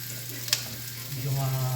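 Squash and turkey meat frying in a pan, with a steady close sizzle, one sharp scrape of a utensil near the start, and a louder, fuller crackle toward the end as the stirring continues.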